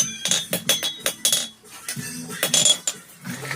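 Metal clanks and clinks several times as a forged piece slips from loose blacksmith tongs and drops, sharp bright impacts in an irregular rhythm, close and fairly loud with no talking.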